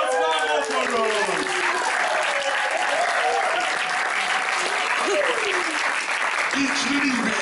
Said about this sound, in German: einen Applaus für den Darius Marathon!